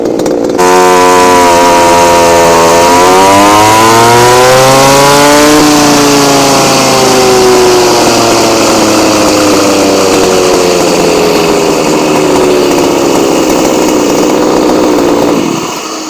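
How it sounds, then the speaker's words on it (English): A Poulan 260 42cc chainsaw with a modified muffler roars loudly and close, revving up then holding a harsh, raspy high-pitched whine for over fifteen seconds before cutting off. "exhaust mod, here we go"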